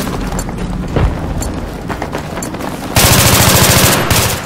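Battlefield 3 gameplay gunfire, likely from an AEK or M4A1 rifle, with a sustained loud burst of rapid automatic shots in the final seconds after scattered earlier shots and distant booms.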